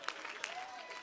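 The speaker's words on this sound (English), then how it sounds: "Clap your hands and say it is so." A church congregation claps during a prayer call, giving a faint, steady patter of many hands with a few sharper claps standing out, heard at a distance with a voice faintly audible underneath.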